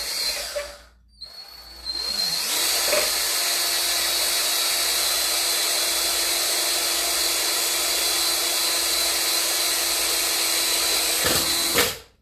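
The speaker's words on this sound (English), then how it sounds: "You just kind of have to press hard so your drill don't go everywhere" A power drill whines steadily at high speed for about ten seconds, close and loud, starting and stopping with brief revs.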